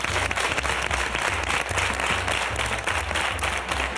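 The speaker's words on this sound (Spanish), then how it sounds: "Un aplauso para todos ellos." A studio audience at a Spanish comedy panel show breaks into sustained, dense applause, a steady wash of many hands clapping at moderate volume with no talking.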